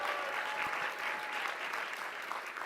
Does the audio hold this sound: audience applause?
yes